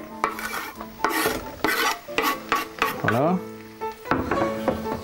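Shrimp and parsley sizzling in a pan while being stirred, with scraping and clinking of a utensil against the pan over a steady fry, a brief word spoken once.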